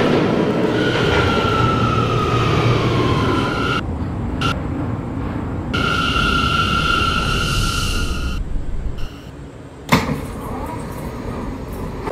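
R179 subway car on a Brooklyn-bound C local in New York, running with a steady loud rumble and rail noise, tonal whine bands rising and falling, brief door or brake hiss near the end.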